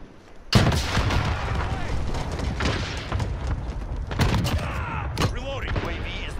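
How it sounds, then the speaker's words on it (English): Explosions from a cluster strike mixed with gunfire in a military shooter game: a sharp, heavy blast opens, then rolling booms and scattered shots continue loud and close, with radio-style game voices speaking over parts of it. "Allied cluster strike incoming."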